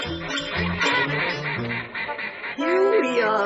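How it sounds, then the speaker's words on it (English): Several ducks quacking close by in a busy, overlapping chorus of nasal calls, with one higher squawk near the end. "Here we are, you cute little ducks,"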